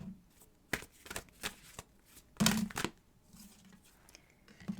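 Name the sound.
tarot cards being shuffled and drawn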